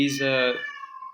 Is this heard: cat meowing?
yes